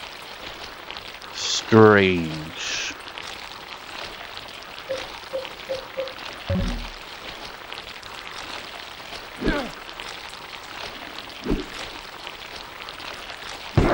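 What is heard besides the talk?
rain falling indoors, from a video game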